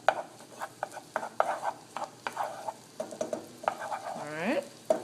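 Onions sweat and sizzle in a pan, a close, steady fry broken by frequent sharp stirring clicks and scrapes. A short whistling, squeaky tone rises near the end.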